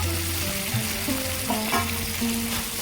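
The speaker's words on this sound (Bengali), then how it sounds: "এবার আমি ভেজে রাখা চিংড়ি মাছগুলো দিয়ে দেব" A constant loud sizzle fills the pan as fried shrimp are added to onion gravy for Bengali chingri macher dopiaza, with faint stirring scrapes under the frying.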